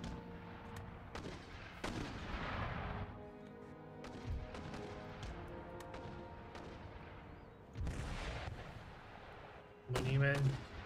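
Massed artillery and musket gunfire in the Empire: Total War video game, a continuous rolling battle din with repeated heavy booms and volleys, louder bursts near the end, with no speech.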